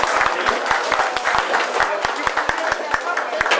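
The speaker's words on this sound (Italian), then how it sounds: "Let's give a round of applause." An audience claps for a school mariachi band, a loose scatter of sharp individual claps that continues for several seconds while a voice speaks over it.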